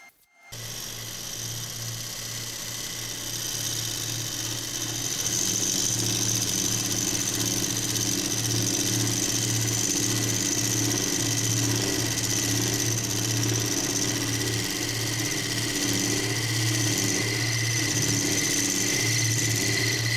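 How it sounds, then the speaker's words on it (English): Woodturning lathe runs steadily while a 3/16 inch Crown parting tool parts off a sanded wooden lid, giving a continuous, loud, near motor hum with a scraping cutting tone throughout and no talk. "Started with the 3/16 inch parting tool from Crown, and then you'll see me switch out to a thinner parting tool."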